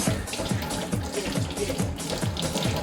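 Tap water runs steadily while hands are washed with soap at a sink, a constant broadband splashing rush throughout with faint low voice-like murmurs underneath.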